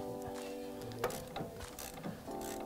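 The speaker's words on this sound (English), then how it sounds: "you're gonna have to get a wrench and a 10 mil to take it out" A wrench clicks and ratchets on the sway bar end link nut of a Dodge Challenger, a few quiet metallic turns with light clinks, close and alone.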